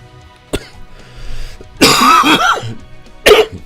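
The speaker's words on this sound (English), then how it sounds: "Apologize for the coughing." A few raspy coughs close by from a man recovering from COVID: a short one, then a longer harsh burst of coughing, and another sharp cough at the end, with quiet between.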